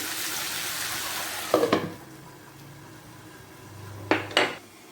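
A lid clatters onto a pot of sweet tomato chutney cooking with jaggery, two metallic knocks against a steady background sizzle, then a second pair of clinks a few seconds later.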